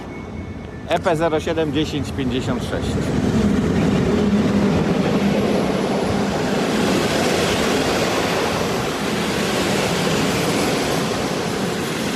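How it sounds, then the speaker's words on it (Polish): The Chemik passenger train from Płock pulls into Katowice station, its wheels clattering and squealing with a rising, loud rumble that fills the platform, while a person talks nearby over the noise. "Wjeżdża pociąg. E, chemik. Z Płocka do Katowic."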